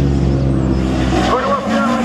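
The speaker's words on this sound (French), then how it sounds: "Cédric Tolon en piste. À 106 rallye." Peugeot 106 rally car on a slalom track at Le Neubourg, its engine note droning steadily through a short stretch under an announcer's commentary.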